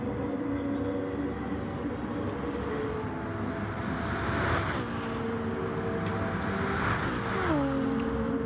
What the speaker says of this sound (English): very nice sound here from the M3s